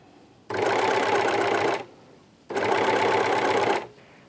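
A serger overlocker stitching and trimming fabric layers runs in two loud, steady whirring bursts of about a second and a half each, with a pause between.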